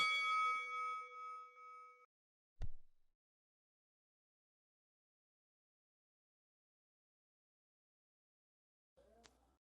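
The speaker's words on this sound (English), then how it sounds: "Here's the bell on this one." A wrestling ring bell at an independent DCWF show gives a sharp ringing tone that decays over about two seconds, followed by a short clang and long silence, then a brief faint clatter near the end.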